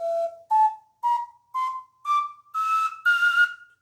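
A flutarina plays seven short separate notes, each a little higher than the last, climbing to a brighter, breathier high note at the end.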